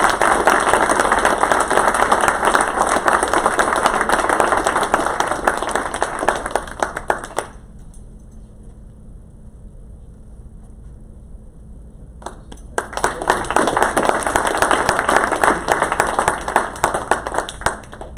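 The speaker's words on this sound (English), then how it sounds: "Let's give him a big round of applause." An audience at a school board of education meeting applauds to honor a mentor: sustained, dense clapping that dies away into near silence midway, then swells back up just as loud.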